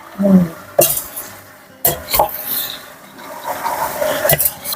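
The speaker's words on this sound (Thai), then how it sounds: "เราต้องผัดข้างล่างขึ้นมาข้างบนก่อนค่ะ" Metal utensils scrape and clatter against a wok as Thai yellow noodles are stir-fried and tossed, with repeated sharp scrapes over a sizzling background.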